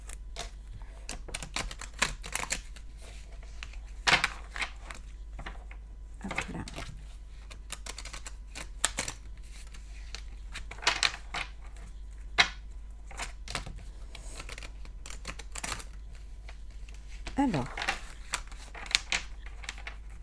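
Tarot cards shuffled by hand, giving a soft, irregular run of papery riffles and taps with a few sharper slaps, fairly quiet and alone.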